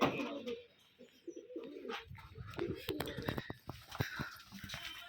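Rajshahi Giribaz pigeons coo in an old loft, with low throaty calls rising near the start and mixing with clicks, shuffling and people talking nearby.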